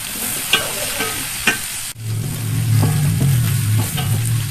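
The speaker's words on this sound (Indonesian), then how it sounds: "Diaduk-aduk merata." Food sizzles in a hot pan with lime leaves, lemongrass and shrimp paste while a utensil scrapes and stirs. A couple of light clinks come first, then the frying grows louder and steadier.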